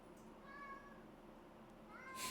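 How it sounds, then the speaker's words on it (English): A cat meows twice, a short call early on and another near the end, heard close by over a quiet indoor background. "You a screamy cat?"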